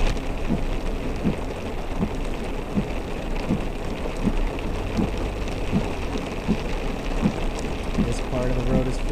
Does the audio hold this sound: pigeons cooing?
no